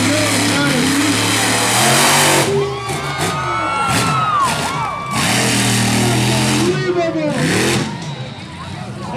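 A 2,000-horsepower monster truck engine revs hard at a freestyle event, a loud sustained roar rising and falling in waves beneath an excited commentator's voice and a cheering crowd.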